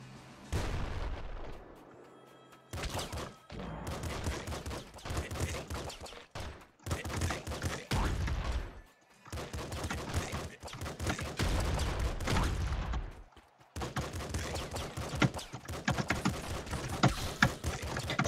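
Bursts of rapid gunfire crackle on and off from enemies shooting each other in Nuclear Throne, dense and punchy with brief silent gaps between volleys, and a voice chats over parts of it.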